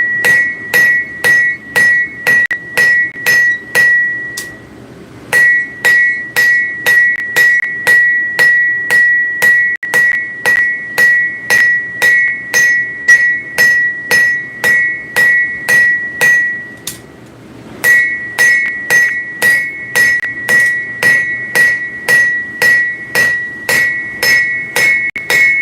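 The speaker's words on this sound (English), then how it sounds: "we need to be using the straight peen hammer and going down the blade." A straight peen hammer strikes a blade being forged and drawn out for distal taper in a workshop, with loud, steady ringing blows in a fast, even rhythm, briefly pausing twice between runs of strikes.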